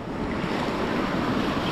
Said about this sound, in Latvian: Jūs redz, kādu viļņu nāk visu.